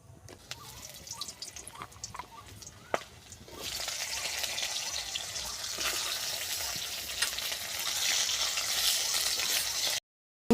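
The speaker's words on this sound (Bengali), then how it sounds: "উচ্ছেটাকে এবার আমি ভেজে নেব।" Sliced bitter gourd frying in a pan, a steady bright sizzle that swells after a few seconds and keeps up loudly, preceded by quieter drips and clatter, then cuts off abruptly near the end.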